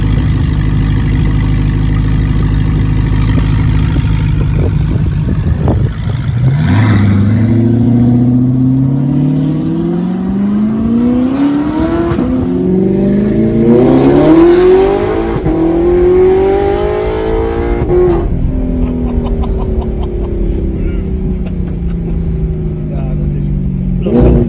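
A straight-piped Audi R8 engine drones loud and steady from inside the car, its pitch sweeping up and down through repeated revs with a brief lull near the start.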